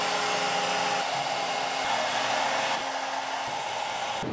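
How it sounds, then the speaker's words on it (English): A CNC machine spindle in a woodworking shop runs with a steady, close, high whine and a constant airy rush, its tone shifting slightly partway through; there is no talk. "Let's enable the machine and turn the spindle on."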